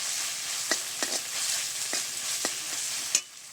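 Chow mein noodles with about two spoonfuls of tomato sauce are stirred in a pan over steady, soft sizzling, with a handful of distinct spatula scrapes and taps spaced through it. The sound is fairly close and there is no talking.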